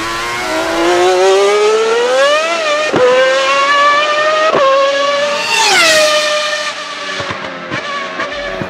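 A 1995 Ferrari Formula 1 car with a V12 engine screams at high revs, its loud piercing wail climbing and dropping through sharp upshifts and downshifts, close and dominant throughout.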